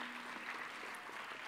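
Audience applause at a school's silver jubilee celebration, a steady, faint wash of many hands clapping from a distance, with no one speaking over it.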